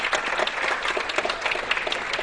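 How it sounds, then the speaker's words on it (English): Audience applause from a quiz show crowd at the Bob Bullock Texas State History Museum, a dense steady patter of many hands clapping, moderately loud and continuous. "let's have a special round of applause for the Bob Bullock Texas State History Museum for hosting us"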